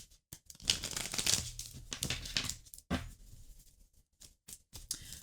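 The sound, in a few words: shuffling tarot cards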